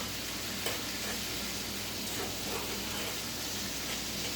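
Beef and broccoli stir fry with orange, red and yellow peppers and onions sizzling in a pan, a steady hiss with soft scraping as it is stirred.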